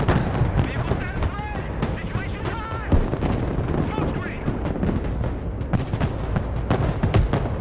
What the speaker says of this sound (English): The AC-130s are on station, opening fire. They're dumping missiles.